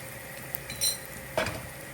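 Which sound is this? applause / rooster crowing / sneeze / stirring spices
stirring spices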